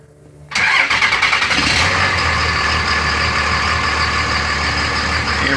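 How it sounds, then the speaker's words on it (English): After a brief quiet moment, a cold Cummins 5.9 diesel engine cranks and catches, its starting rumble settling into a loud, steady idle that continues to the end. "So we're going to go ahead and start the engine."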